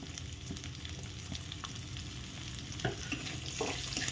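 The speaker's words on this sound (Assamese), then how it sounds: "এতিয়া পিঁয়াজটো মই কম জুইত কিছু সময় ভাজি ল'ম।" Steady sizzling of onions frying on low heat in a pan, with a few scraping stir sounds near the end; no talking.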